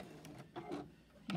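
A sewing machine runs in short bursts for a final back stitch on a folded star quilted hot pad, quiet, brief and close, with no talking.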